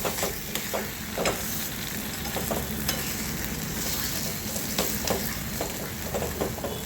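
Rava sheera cooking in a pan with sugar and cardamom powder, stirred to a close, steady sizzle broken by frequent scraping clicks of the spoon against the pan.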